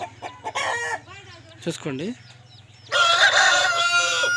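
A fifth rooster of about three kilograms, from a bulk sale of twelve, clucks and gives a short crow under a man's speech, then breaks into a loud, sustained crow close by at the end.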